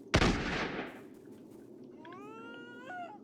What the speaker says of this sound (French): Voilà, on tire, on tire, on tire.